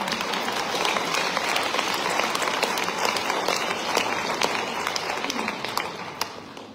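An audience at a mayor's New Year address in Rillieux-la-Pape breaks into applause. Sustained, dense clapping from a sizeable crowd holds fairly steady before thinning slightly toward the end.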